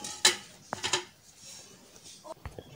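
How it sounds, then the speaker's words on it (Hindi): A metal steamer rack is set down inside a pressure cooker, giving a few faint, sharp clinks and clatters of metal on metal with quiet gaps between them. "अब इसके अंदर एक स्टीमर वाली जाली रख देनी है।"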